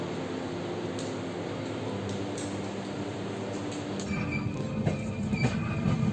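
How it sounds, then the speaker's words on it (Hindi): A train rolls through a closed railway crossing gate, a steady low rumble of wheels and cars that grows louder and busier toward the end, with rattling clatter close by. "रेलवे गेट बंद है"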